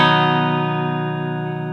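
One cleanly fretted guitar chord, struck once and left ringing with every string clear, sustaining evenly and slowly fading, close and alone.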